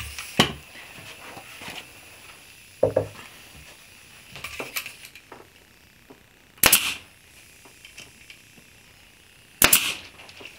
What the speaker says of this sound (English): I got 3/4 inch pins and I just shoot it in